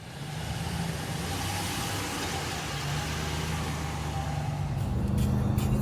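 A 2020 RAM 1500 Warlock pickup truck on a test drive, its engine a steady low drone with road and cabin noise, heard from inside, with a slight rise near the end.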